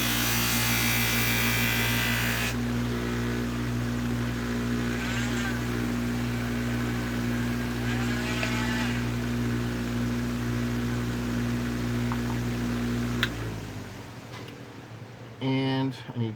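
A steady electric polishing motor drones loudly while polishing compound is worked onto a 1993 silver eagle coin ring, then winds down near the end, leaving brief handling clatter.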